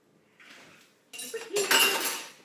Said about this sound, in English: Let me move the dishes here.